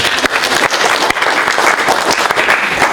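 A seminar audience on sustainable shipping breaks into loud, close applause, a dense continuous clatter of many hands with a few sharp individual claps standing out, sustained without speech.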